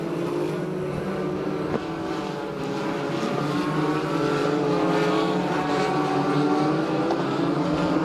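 USAC/CRA sprint car engines roaring around a race track, a loud, sustained droning howl that swells slightly as the cars pass, with no voices.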